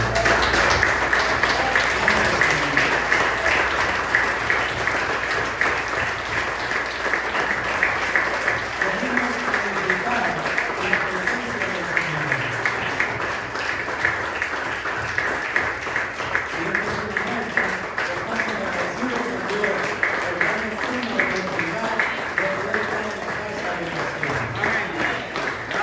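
Church congregation applauding together during a worship service, dense sustained clapping from many hands that keeps going steadily, with scattered voices mixed in.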